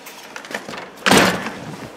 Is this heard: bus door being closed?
yes